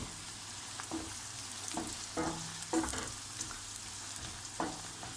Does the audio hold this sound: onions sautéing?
yes